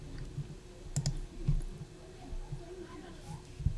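A computer mouse clicks a handful of times in short, sharp, quiet taps, irregularly spaced and close by, with faint low background murmur.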